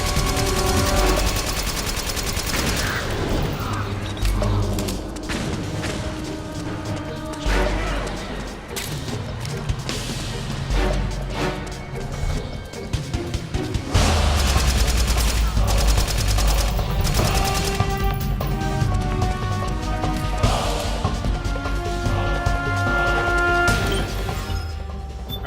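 Gunfire in the Metal Gear Solid 4 video game: dense, continuous bursts of rifle fire and impacts layered over a loud game soundtrack, with rapid rattling volleys throughout.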